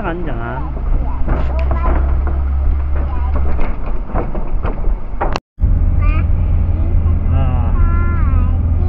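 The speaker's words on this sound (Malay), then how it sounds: "Video ini agak bergoyang sebab kami naik kereta." A car climbing a hill on a village road in Kampung Papar, Tambunan, its engine a steady low rumble under bumpy cabin noise, with people talking over it and a brief dropout midway.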